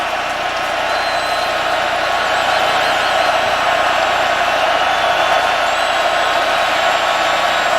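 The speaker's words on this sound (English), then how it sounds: "Crowd gets louder and louder" A stadium crowd at a 2021 North Carolina Tar Heels vs. Virginia Tech Hokies college football game roars steadily, a dense, sustained wall of cheering with whistles and whoops that holds loud throughout.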